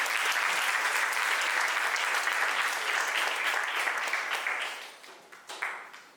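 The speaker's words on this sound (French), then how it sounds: "merci de faire un tonnerre d'applaudissements pour Laura et Machim" A crowd at a coding bootcamp demo day applauds two presenters, the dense clapping loud and sustained before thinning out and fading near the end, with a few scattered claps trailing off.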